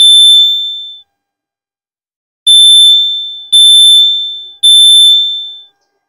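A CrossFit box timer buzzer gives one long shrill electronic tone, then after a pause three more sharp beeps with a falling end, loud and alone with no talk.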